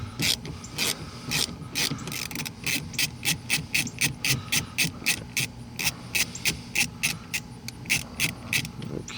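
Repeated ratcheting clicks as screws are backed out of a rear window regulator inside the door of a 2006–2010 PT Cruiser, a steady close rhythm of quick metallic strokes with no talk.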